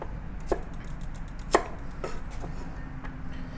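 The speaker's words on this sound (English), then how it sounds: "Cut into 3 piece or 4 piece or 5 piece." Knife chopping garlic cloves into a few pieces on a board: a handful of crisp, separate taps spaced irregularly over a quiet background, close and clear.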